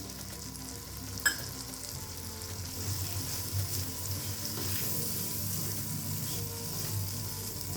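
Semolina roasting with cashews and almonds in a pan for banana sheera, a steady soft sizzle and scraping of stirring throughout, fairly close and moderately loud.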